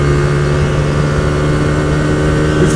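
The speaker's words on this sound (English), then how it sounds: "The engine brake on this bike is really nice as well." A Hyosung GT125R motorcycle engine drones steadily while engine braking, a loud, even low hum that holds without change from start to finish.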